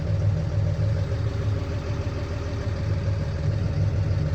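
A Fendt 926 Vario tractor with a 290 hp MAN engine idles steadily nearby, a continuous low, even rumble with light mechanical clatter and no talk over it.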